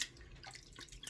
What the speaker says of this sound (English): Add a little bit more water to the neck here